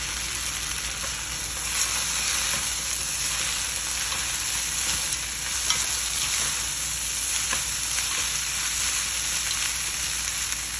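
Lots of garlic frying in oil for spaghetti peperoncino, a loud, dense, continuous sizzle and crackle with faint stirring, with no voices.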